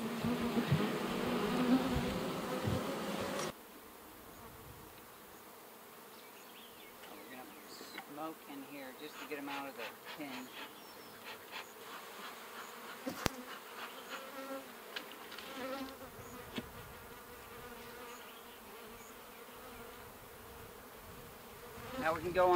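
Honeybees buzz steadily at an open horizontal beehive, a close, continuous drone with occasional nearer passes, heard alone without talk.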